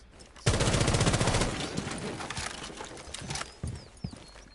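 Gunfire in the tactical shooter Rainbow Six Siege, with a burst of rapid automatic shots up front followed by scattered single reports and clatter.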